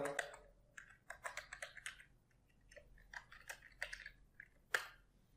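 Fingers type a password on a computer keyboard, a run of quick, close, uneven key clicks with short pauses and one sharper final keystroke, no voices.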